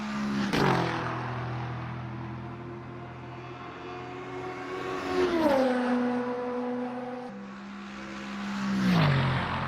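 A Mercedes race car engine in a racing video game holds a loud droning tone with several clear shifts in pitch as the car changes gear and swells past, heard alone.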